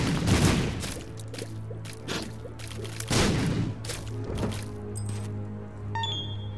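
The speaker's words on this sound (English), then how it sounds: "Another bomb." Repeated bomb explosions in the video game The Binding of Isaac: Wrath of the Lamb, a series of sharp booming bursts spaced a second or two apart, followed by bright chime-like game tones near the end.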